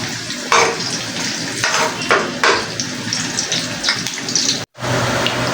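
Garlic fries in hot oil for a minema-style minced meat dish, a steady loud sizzle with clinks and scrapes of a utensil against the pan, briefly cut off near the end before resuming.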